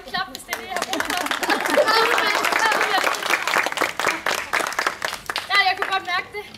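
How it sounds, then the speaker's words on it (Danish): Applause and clapping from a crowd at a children's circus show by the troupe Gøglerungerne Trup Ting Tang on an outdoor stage, steady and fairly loud throughout, with children's voices mixed in. "Jeg havde brug for at klappe."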